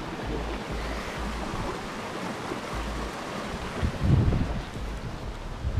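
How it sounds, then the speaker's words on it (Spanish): A river flows near the Chilchotla waterfall in Puebla, Mexico, giving a steady broadband rush of water mixed with wind buffeting the microphone, with a slightly louder surge near the end and no talking. "mira, aquí hay un río."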